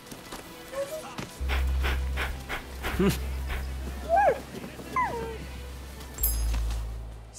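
A dog in the video game Rise of the Ronin gives several short whimpers and yips over a low steady game ambience, while someone talks intermittently.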